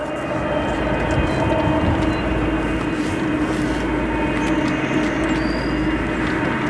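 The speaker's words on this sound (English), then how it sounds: "Listen to those GE90s." Korean Air Boeing 777-300ER with GE90 engines at O'Hare International, its jet roar a loud, steady broadband rumble that holds evenly throughout with no talk.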